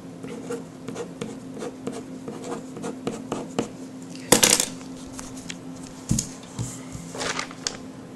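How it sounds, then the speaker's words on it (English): A pen scratches across a sheet of paper in short irregular strokes, with a few sharper taps and rustles, close and fairly quiet over a steady low electrical hum. "I'll just draw that on a piece of paper so you can see it very clearly."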